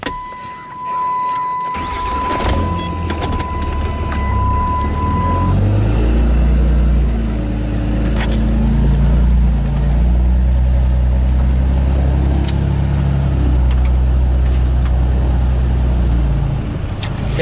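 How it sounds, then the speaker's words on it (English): A 24-valve Cummins diesel truck with a 5-inch exhaust and 7-inch tip, starting with a brief whine then settling into a loud, steady deep rumble and drone that rises and swells while driving, close to the pipe and without voices. "here's our exhaust, 5-inch, back to, I believe it's a 7-inch tip"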